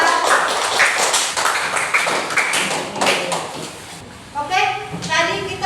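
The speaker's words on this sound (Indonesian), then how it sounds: "Beri tepuk tangan kelompok 3." A school class claps for a student group after its presentation, a burst of dense, uneven clapping that fades out before children's voices and chatter take over at the end.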